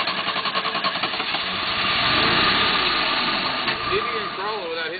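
An off-road vehicle's engine idles loudly on a steep hill at an off-road park, a steady close rumble that swells briefly, with people talking over it toward the end.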